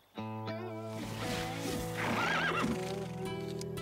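Cartoon horses let out a loud whinny with hoofbeats clip-clopping along beneath it, the neigh rising and warbling in the middle while a steady tone holds under the whole passage.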